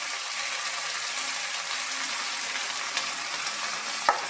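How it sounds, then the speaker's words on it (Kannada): Chopped tomato and onion frying in a pan, a soft, even hiss of sizzling oil throughout with a single small clink near the end and no voices. "ಟೊಮೆಟೊ ಹಣ್ಣು ಮತ್ತು ಈರುಳ್ಳಿನೂ ಕಟ್ ಮಾಡಿರೋದನ್ನು ಸೇರಿಸ್ತಾಯಿದ್ದೀನಿ. ಫ್ರೈ ಆಗ್ತಿದೆ."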